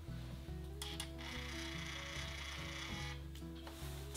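A small label printer whirs and buzzes steadily as it prints a pipe label, a close mechanical hum with brief clicks and shifts in pitch, faint music beneath.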